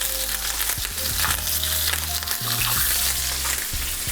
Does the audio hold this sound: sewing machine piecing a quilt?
no